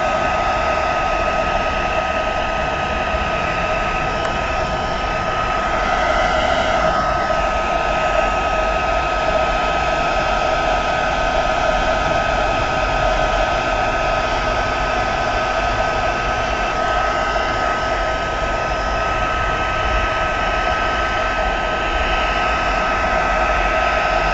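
A hair dryer blows steadily and loudly at close range for the whole stretch, drying paint on a weathered-wood craft project. The airflow is an unbroken roar with no talking.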